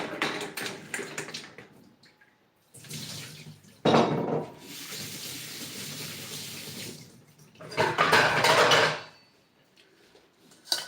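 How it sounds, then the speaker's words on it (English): Potatoes and carrots are washed under running water in a kitchen sink, with bursts of faucet flow and splashing separated by quieter pauses, close and alone. "I'm going to wash it and pour it inside the pot"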